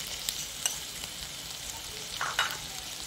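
Ground tomato paste fries in a pan with a soft, steady sizzle and a few sharp clicks of a spoon stirring nearby. It stays fairly quiet, with no talking.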